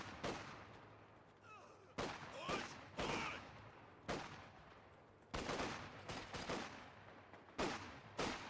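Repeated bursts of machine gun fire in the Company of Heroes strategy game, sharp volleys separated by brief pauses over a steady battlefield background.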